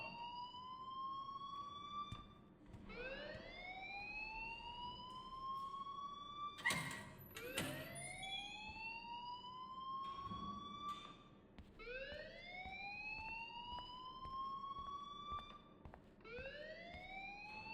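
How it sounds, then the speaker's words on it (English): Electronic school fire alarm in the video game Life is Strange, with repeated rising whooping siren sweeps in a steady cycle. It is moderately distant and continuous, with a brief clatter partway through. "please turn off that alarm since that's your job"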